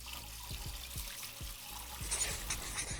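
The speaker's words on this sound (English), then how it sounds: "So go ahead and just put them in a strainer. Give them a little rinse." Water trickles and splashes steadily over kidney beans in a strainer, a soft, close rinse with faint tapping of beans and no voices.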